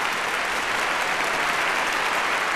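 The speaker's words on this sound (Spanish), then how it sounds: "Ahí nomás el aplauso, venga, que se escuche." An audience applauds at a norteño music concert, a dense, steady wash of clapping from a large crowd filling the whole stretch.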